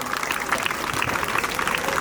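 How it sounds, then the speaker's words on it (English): A school investiture ceremony audience claps for the incoming head boy, a steady, busy round of applause from a crowd filling the whole short stretch. "Give a huge round of applause."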